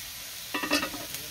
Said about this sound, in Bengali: এখন নাড়াচাড়া দিব, কষাইব, তারপরে ঝোল দিয়ে দিব